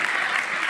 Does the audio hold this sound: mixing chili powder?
no